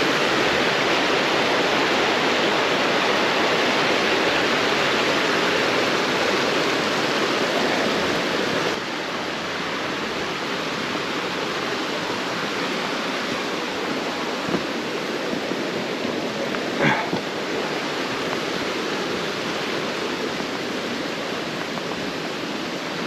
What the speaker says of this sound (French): Je ne me lasse pas de regarder cette rivière.